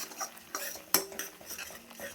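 Jackfruit curry with meat masala is stirred and fried in a pan: a spatula scrapes and clinks against the metal in quick irregular strokes, with one sharper knock, over a faint sizzle, close and without speech.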